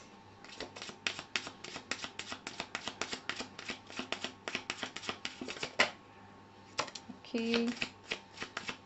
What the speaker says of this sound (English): let's pick out some tarot cards for you